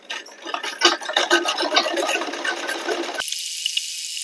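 A sewing machine stitches a belted blouse, its rapid needle chatter running steadily for about three seconds before stopping abruptly, leaving a faint hiss.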